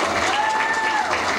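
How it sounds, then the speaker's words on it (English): A studio audience at a talk show gives a short, loud burst of dense applause, with a thin whistle-like tone rising and falling above the clapping. "How about a big round of applause for Jamie?"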